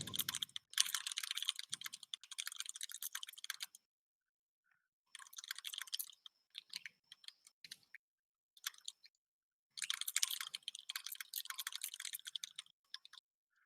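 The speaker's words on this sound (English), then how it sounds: "typing" Rapid clicking keystrokes on a computer keyboard come in several bursts of a few seconds each, separated by short silences, close and crisp with no talking.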